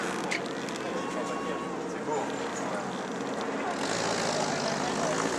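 A propeller aircraft drops paratroopers at the Operation Overlord 80th anniversary commemoration in June 2024, its engine a steady droning hum overhead that holds from start to finish and swells slightly toward the end, with people talking over it.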